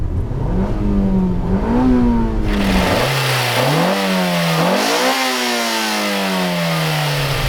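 A Honda B16 four-cylinder engine in a 2000 Civic Si EM1 revs up and down repeatedly, pitch climbing and dropping in several pulls, loud and close with no talking.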